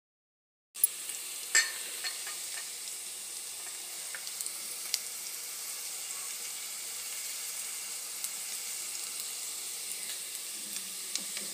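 Spices hit hot oil with onion and curry leaves in a pan while cooking tomato rice, starting a sudden, steady, close sizzle that continues evenly with a few small pops and clinks.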